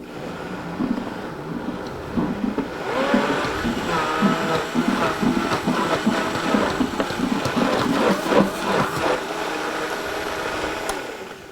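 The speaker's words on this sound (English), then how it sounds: "this is just sitting all in a blender" A blender whirs steadily as risotto ingredients are blended, a continuous motor drone with shifting pitch that fills the kitchen for the whole stretch.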